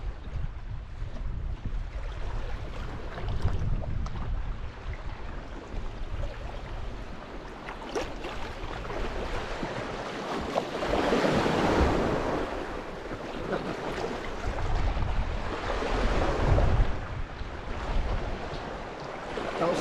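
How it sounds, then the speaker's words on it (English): Wake from a passing ship reaching the shore, swelling surges of surf that build and break in several rolling waves, with wind buffeting the microphone and no voices. "Here comes the wake."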